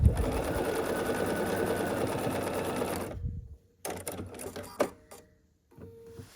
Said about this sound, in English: once I get the sewing machine holding it with the first couple stitches